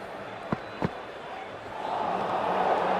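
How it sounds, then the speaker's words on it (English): Simulated stadium crowd in the Cricket 24 video game at a Pakistan versus Afghanistan match, two sharp knocks followed by a swelling roar of cheering that grows louder and holds to the end. "It's almost palpable, the excitement emanating from this crowd at the moment."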